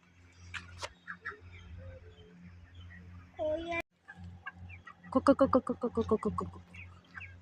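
Chickens cluck in short bursts at a chicken farm, with a louder run of rapid clucks toward the end; a low hum runs underneath.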